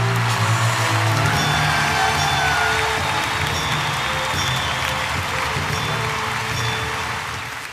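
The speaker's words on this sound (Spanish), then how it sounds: "Recibamos con un fuerte aplauso" An audience at a theology lecture applauds to welcome the speaker and his wife, with steady sustained clapping that fades slightly toward the end, no talk over it.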